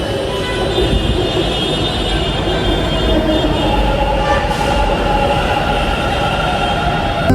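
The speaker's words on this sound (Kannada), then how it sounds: "ಜಸ್ಟ್ ಮೆಟ್ರೋ ಬಂದು ನೋಡ್ರಿ" A Bengaluru metro train pulls into a station with a loud, continuous close-up rumble of wheels and carriages. A faint metallic squeal rides on top, and the roar holds steady throughout.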